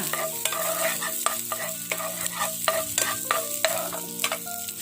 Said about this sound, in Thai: ใส่น้ำมันมะกอกนะคะ แล้วก็กระเทียมสับนะคะผัดให้หอมเลยค่ะ